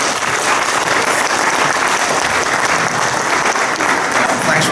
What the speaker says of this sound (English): Big round of applause for Michael Murphy here now.